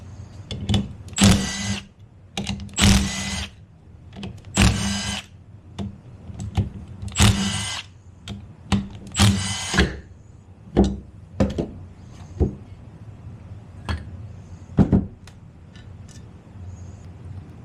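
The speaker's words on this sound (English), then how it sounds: "we can remove the 5 bolts that hold our 2 halves together" A power tool buzzes in several short, close bursts while backing out the five bolts holding the two halves of a TH400 transmission oil pump together, followed by lighter knocks and clinks of parts being handled.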